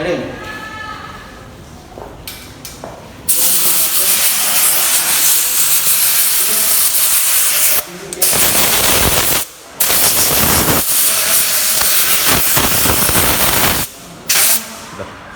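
Compressed air spraying out to clean an air filter, blown from the inside outward: loud broadband hissing bursts that run for several seconds each, broken by short pauses.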